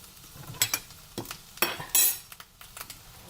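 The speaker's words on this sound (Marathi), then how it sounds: "आपलं तूप छानपैकी तापलेलं आहे परत हवं तसं तुम्ही ढवळून घेऊ शकता" A spoon stirs through hot, spattering ghee in a pan, with sharp scraping clinks and bursts of crackle in quick, uneven strokes, close and fairly loud.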